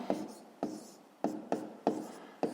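Pen or chalk writing out a multiplication sum, heard as six quick scratchy strokes in an uneven rhythm, close and fairly quiet, with no voices.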